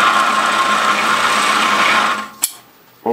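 A carpet binding machine stitching binding tape hums close and steady, a busy whirring motor that runs alone and then shuts off. Two short clicks follow in the quiet.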